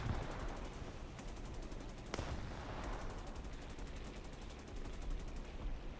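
Sustained machine gun fire from a fighter aircraft in a flight combat video game, a dense continuous rattle of rapid shots under a steady engine roar, loud and unbroken for the whole stretch, with no talk.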